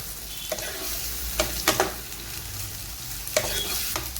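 Onions frying in a pan for chicken curry, a steady close sizzle with a few spoon scrapes and stirring knocks, a low hum running beneath.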